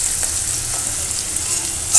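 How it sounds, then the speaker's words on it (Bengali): Fish sizzles and crackles steadily in hot oil in a home kitchen, frying until crisp, a close, continuous hiss with a brief louder spatter at the very end. "মাছ ভাজা তেলের ভিতর হচ্ছে"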